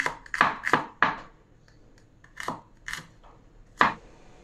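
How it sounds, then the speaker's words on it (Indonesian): A knife chopping chilies for sambal on a board, crisp close cuts in a quick burst of three or four, then a pause and a few more separate chops. "bikin sambel nggak harus diulek nih bisa dirajang kayak gini ya"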